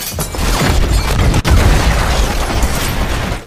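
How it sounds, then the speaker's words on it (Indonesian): A big film explosion erupts as a loud, dense broadband roar with heavy low rumble, sustained for several seconds with one sharp dropout midway, no voices. "Ledakan besar terjadi dan membuat Lena terluka parah"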